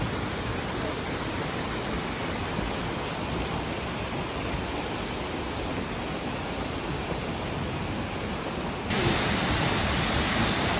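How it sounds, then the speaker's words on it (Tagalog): A waterfall in the center of Tbilisi, Georgia, gives a steady, dense rush of falling water that grows louder near the end, with no voices heard. "ito na yung area kung saan makikita mo yung waterfalls."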